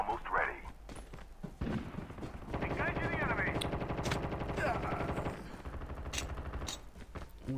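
Bursts of video-game gunfire crackle and rattle in rapid volleys over a busy game soundscape, with someone talking through parts of it.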